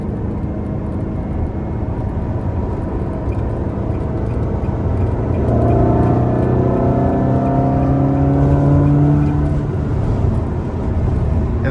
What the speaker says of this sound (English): one thing you have to admire about a Ferrari is it sounds fantastic